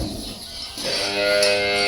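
A Murrah buffalo on a farm gives one long, low, close moo that swells in and holds for about a second, with no talking.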